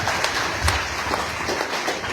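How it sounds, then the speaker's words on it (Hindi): An audience at a live event about education in Bihar applauds together, a dense, loud, continuous clapping that fills the whole moment with no talk over it. "जरा ताली बजाओ अपने लिए आप लोग"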